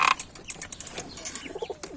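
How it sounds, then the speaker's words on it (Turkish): Pigeons cooing outdoors in soft, repeated low calls, fairly faint against a noisy background with a brief louder burst at the start. "Kapanışı güvercinle güvercinle yapalım."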